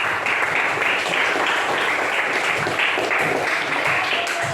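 Audience in a classroom-type setting applauding, a dense steady wash of many hands clapping together for several seconds, close and even in loudness.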